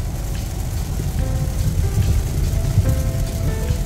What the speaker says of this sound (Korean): 비 엄청나게 옵니다.